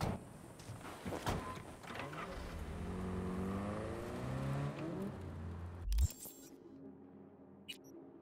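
Car driven in the game Cyberpunk 2077, a steady engine drone with a rising, sweeping pitch as it accelerates, ending in a sudden thud and quieter aftermath, with no talking.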